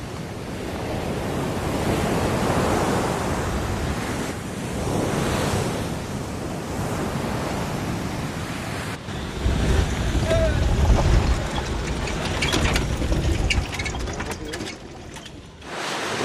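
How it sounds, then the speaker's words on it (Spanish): Turbulent sea on a windswept northeastern coast of Aruba crashes in rolling surges of surf, loud and continuous, with heavy wind buffeting the microphone and a stronger wave burst partway through. "El turbulento mar de la costa nororiental, agitado por la acción incesante de los vientos"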